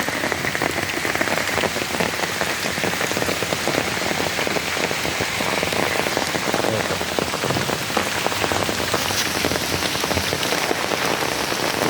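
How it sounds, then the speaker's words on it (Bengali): Light rain falling at night, a dense continuous patter of drops on surfaces, steady and fairly loud throughout with no voices. "কারণ বৃষ্টি বৃষ্টির ফোঁটা গুড়ি গুড়ি বৃষ্টি চারিদিকে ছড়ানো"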